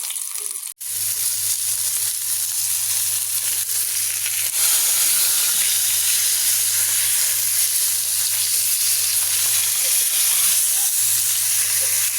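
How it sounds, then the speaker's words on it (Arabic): Seasoned tilapia fish frying in hot oil, a steady close sizzle with bubbling hiss that continues alone throughout, with a low constant hum underneath. "هنجهزه دلوقتي عشان نحمره"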